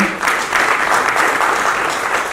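A crowd at an awards ceremony in Jaipur applauds steadily and loudly, the clapping dense and sustained throughout.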